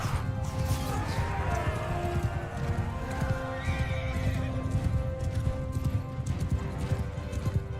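Horses in the Mount & Blade 2 Bannerlord game whinny and neigh over a dense, steady clatter of galloping hooves from a mounted battle, loud and continuous throughout.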